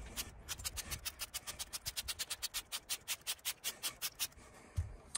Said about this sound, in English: you don't scrub the headliner too much because it will pill up a little bit